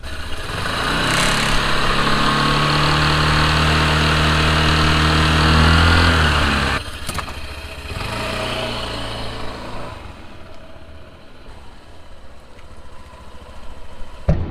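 A Honda ADV 150 scooter's rear tire spun with the engine running, a loud close motor drone with rising pitch that cuts off sharply, then quieter mechanical whirring and light rattles.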